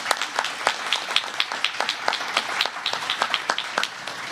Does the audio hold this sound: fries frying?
no